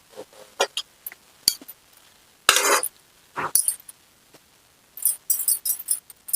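A spoon stirs drumstick and spinach curry in a metal pot, making sharp clinks and scrapes in irregular bursts with quiet pauses between, close and fairly faint.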